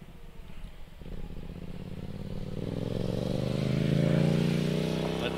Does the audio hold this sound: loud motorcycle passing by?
yes